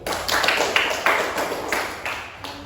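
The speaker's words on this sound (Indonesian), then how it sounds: "Tepuk tangan kelompok 1." Students in a classroom clap for group 1, a short run of quick, fairly close rhythmic handclaps that fades out after a couple of seconds.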